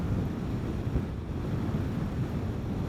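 Wind roars over the microphone while riding a Vespa GTS 300 scooter on the highway, a dense, steady low rumble and buffeting that is loud and constant, with no talking.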